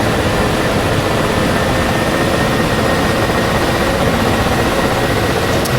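A Ka-50 Blackshark helicopter in DCS World powers up for takeoff, its rotors and turbines producing a loud, dense, unbroken roar that holds steady throughout.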